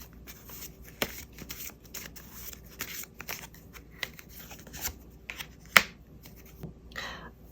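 Tarot cards are shuffled and handled in a quiet room, with soft riffling flutters and papery slides broken by a few sharp taps and snaps of cards.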